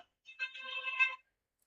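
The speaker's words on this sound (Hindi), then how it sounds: "ये फोन ऑन क्यों आ रहा है?" A mobile phone ringtone plays a short melodic tone burst, faint and clean against silence, during a classroom chemistry lesson.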